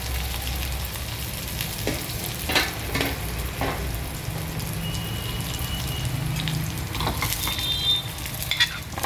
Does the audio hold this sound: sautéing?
yes